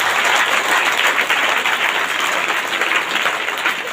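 A congregation at a Christian ministry gathering claps loudly, a close, intense, even wall of applause sustained for several seconds with no voices rising above it.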